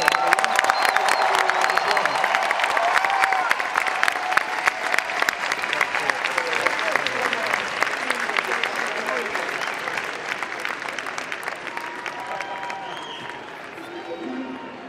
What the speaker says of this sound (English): We'll give R2 and BB-8 and Oliver and Lee a round of applause.